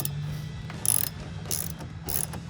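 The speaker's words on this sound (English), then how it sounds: "Grab our ratchet wrench, 10 millimeter socket, and we're gonna tighten it down." A ratchet wrench fitted with a 10 mm socket tightens bolts while a driver-side powered heated mirror is installed on a 2013-2018 RAM 1500, giving three short, bright clicking ratchet bursts at close range over a low background hum.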